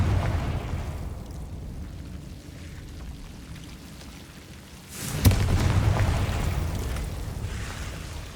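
The Confringo fire spell from Hogwarts Legacy goes off as a sudden rumbling blast with a sharp crack, followed by a sustained low roar over a steady game-ambience bed.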